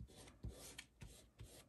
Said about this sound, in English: And I'm just scraping it through the screen.